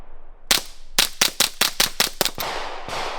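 A .22 firearm fired in a quick series of about eight sharp, loud cracks, the shots bunched closely together, followed by a short fading ring.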